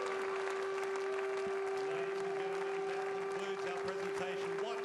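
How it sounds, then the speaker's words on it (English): Warm applause from a partisan snooker crowd in Bendigo, Australia, greeting champion Marco Fu after the Australian Goldfields Open final, steady and sustained with a faint tonal hum beneath. "Warm applause from this,"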